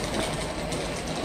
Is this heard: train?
yes